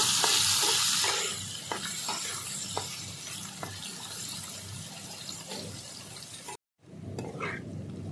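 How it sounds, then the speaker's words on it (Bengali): Cut potatoes frying in a pan until browned, a steady bright sizzle with sharp clicks of stirring spread throughout, fading after a brief break near the end. "কেটে রাখা আলুগুলো দিয়ে দেব আলুগুলো একটুখানি ভালো করে লাল করে ভেজে নেব"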